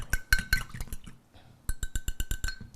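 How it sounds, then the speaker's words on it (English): A whisk clinks rapidly against a bowl while mixing a sesame seaweed salad dressing with garlic and ginger, two quick bursts of sharp metallic taps separated by a short pause, close and loud. "Just going to give this a quick whisk to combine it."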